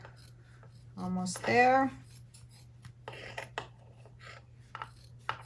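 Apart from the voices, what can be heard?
scissors trimming fabric for a cat pod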